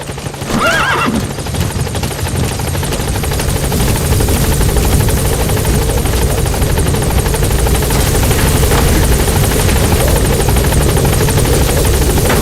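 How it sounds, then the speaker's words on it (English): The support helicopter in Metal Gear Solid V: The Phantom Pain drones loudly with rotor thrum throughout as it arrives, joined briefly at the start by a horse-like whinny. "Support helicopter has arrived."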